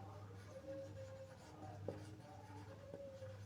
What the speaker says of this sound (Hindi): यहां पे 3 चीजें हम लिखते हैं।